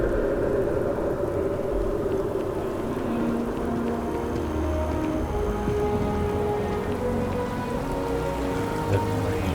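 Steady rain in the video game Starfield, a constant hiss of drops on surfaces over a low rumble, with faint tonal game sounds drifting in the background.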